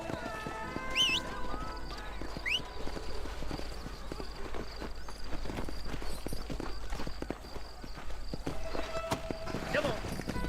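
Horse hooves clip-clop at a steady walking rhythm in the Red Dead Redemption video game, with a brief whinny, other game effects and voices talking over the hoofbeats.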